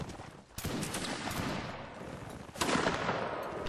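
Ragged musket volleys crackle through a large Napoleonic-era line battle in the game Mount and Musket, with overlapping shots building into a dense, sustained fusillade that surges again near the end.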